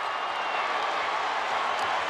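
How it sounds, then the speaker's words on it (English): Basketball arena crowd at a Villanova–Providence Big East Tournament game roaring and applauding in a steady, dense wash of cheering with no break. "Listen to this crowd."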